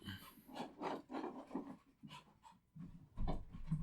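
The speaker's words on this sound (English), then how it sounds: "My dog has the zoomies." A dog with the zoomies pants quickly and heavily up close, with scuffling, rasping movement noises as it dashes around indoors in short bursts.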